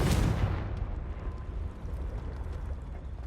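A Confringo fire spell explodes in Hogwarts Legacy, a sharp blast that fades into a rumbling, crackling roar for a few seconds, with no voices heard.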